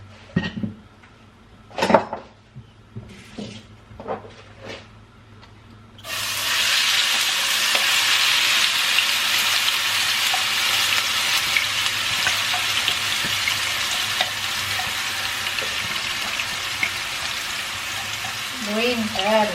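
Green curry paste hits a hot pan with a sudden loud, sustained sizzle that continues steadily to the end, preceded by several sharp clinks and knocks of utensils and pans.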